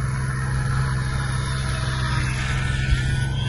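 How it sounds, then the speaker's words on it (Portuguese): Glow or nitro engine of a Cessna Sport 40 model airplane idling on the ground before takeoff, a steady continuous drone at moderate distance with no talking. "o avião tá ali, ligado já, pronto pra decolar"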